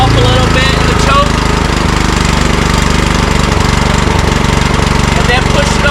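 A Lesco lawn aerator's small engine catches and runs steadily on choke while warming up, a loud, continuous close-range rattling drone throughout.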